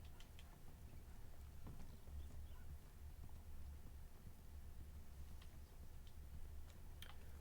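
Steady rhythmic clip-clop of horse hooves on a hard surface in the video game Red Dead Online, moderately close, over a low continuous rumble with a few faint clicks.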